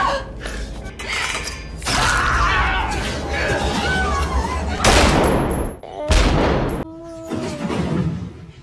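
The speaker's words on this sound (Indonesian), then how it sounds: "Sebuah tembakan di perut akhirnya membuat Alice terkapar" Gunfire in a film scene crackles in dense, loud bursts mixed with mechanical clanks and rumbling, with several sharp blasts standing out over a busy soundtrack.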